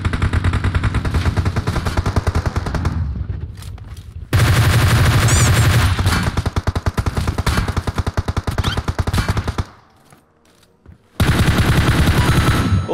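Gunfire in PUBG Mobile comes as loud, dense automatic bursts with rapid repeated shots. There are two short lulls, one of them nearly silent, before the firing resumes.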